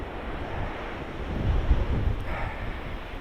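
Stormy sea waves crash along the East Coast of Scotland with a continuous wind-blown roar that swells into a heavier surge midway, then eases slightly, with no voices.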